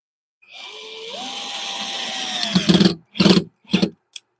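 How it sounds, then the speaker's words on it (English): A power drill whines into hard wood at a woodturning lathe setup, its motor pitch rising then straining for a couple of seconds, followed by three short bursts and a final quick blip, close and loud. "While we drill in the rest of the bits."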